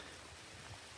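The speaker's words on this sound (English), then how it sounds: "I know you can hear the rain in the background." Steady rain falls on a wooded forest trail near a parking area at Alexander's Ford, a soft, continuous patter with no voices.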